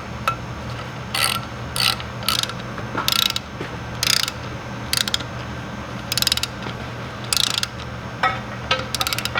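A ratchet tightens bolts on a Ford 1700 tractor clutch assembly, quick clicking bursts repeated at irregular intervals, close over a steady low background hum.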